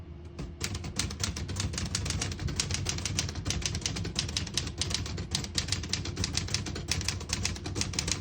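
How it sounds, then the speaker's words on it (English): A 1965 Olivetti Lettera 32 portable typewriter being typed on at close range, a fast, fairly even stream of sharp key strikes running for several seconds without talk. "I'll type a sentence on the next line."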